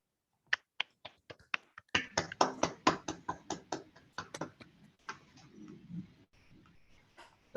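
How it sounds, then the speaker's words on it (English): Applause from a small online audience on a video call, starting with a few isolated claps then a brief cluster of sharp, thin claps that trails off into scattered ones, quiet and compressed. "give the speaker a round of applause"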